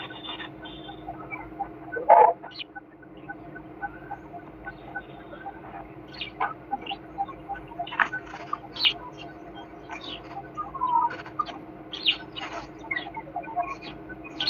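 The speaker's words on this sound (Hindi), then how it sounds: "किसके पीछे से चिड़िया की चिचहाने की आवाज आ रही है?" Birds chirp in the background of a student's room during an online physics class, scattered short tweets, faint and fairly distant, over a low steady hum, with no clear talking.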